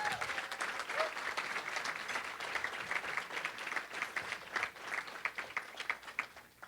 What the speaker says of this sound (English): Let's have another round of applause for all of our award winners today.